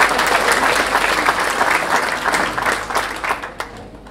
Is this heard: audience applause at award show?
yes